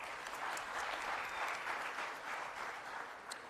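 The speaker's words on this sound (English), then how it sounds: "Let's give him another round of applause" Steady applause from an audience at the Cherokee Speaker Summit, a sustained wash of many hands clapping at moderate volume throughout.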